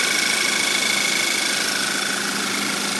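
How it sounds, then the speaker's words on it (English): A 2015 Volkswagen Tiguan SE 4Motion with a 2-liter turbo engine idles steadily after a fresh oil change, giving an even, continuous mechanical hum at close range with no voices. "You can hear there's no abnormal noises coming from the engine."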